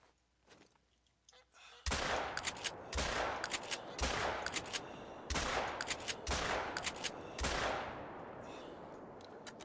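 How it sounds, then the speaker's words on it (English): Rifle shots in theHunter: Call of the Wild crack out about six times at a steady spaced rhythm, each loud report trailing into a long rolling echo, following a quiet start with faint handling sounds. "Let's try a few shots overhead."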